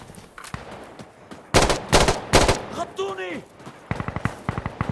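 Loud bursts of gunfire in Insurgency: Sandstorm, some in rapid automatic strings, with a brief whooshing ricochet-like sweep in the middle and no talking.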